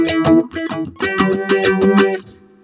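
Electric guitar through a Pigtronix EP2 envelope phaser pedal plays a rhythmic run of choppy notes with a quacky, sweeping filtered tone, each pluck swelling and closing quickly, loud and close.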